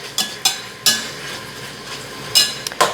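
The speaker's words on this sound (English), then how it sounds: "Like, bacon fries really quickly." Bacon frying in a hot pan for carnivore bacon chips, stirred with a utensil; a low sizzle runs underneath while several sharp scraping clinks of utensil against the pan stand out at irregular moments.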